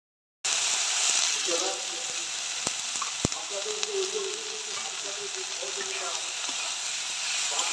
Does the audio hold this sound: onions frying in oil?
yes